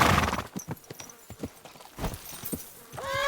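A horse's hooves clop and slow to a halt in the medieval game Kingdom Come: Deliverance II, a series of irregular thuds ending in a brief neigh.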